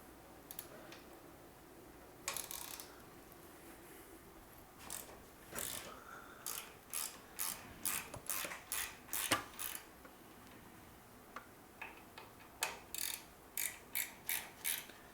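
A ratchet loosens a hardware fastener during a build, producing bursts of rapid, close, dry clicking in several runs separated by short pauses, with no talking.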